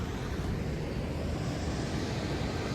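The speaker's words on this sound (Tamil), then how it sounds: "அங்கே இருக்கிற எல்லா தென்னை மரத்துக்குள்ளேயும் பூந்து தண்ணி போயிட்டுருக்கு" Floodwater from a large river release rushes through a grove of coconut trees, a steady, dense roar with wind buffeting the microphone and no voices.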